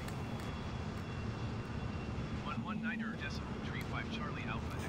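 An F-15 jet engine droning steadily in Microsoft Flight Simulator at night, a faint continuous rumble with a tonal whine, joined partway through by a few brief higher warbling tones.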